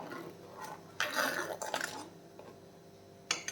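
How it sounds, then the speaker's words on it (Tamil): A spoon scrapes and clinks around a pot of boiling Kerala fish curry in short bursts, with soft wet stirring sounds between, fairly close. "இப்போ பாருங்கள் இந்த குழம்பு கொதிக்குது எல்லாத்தையுமே நல்லா கிளறிப்போம்"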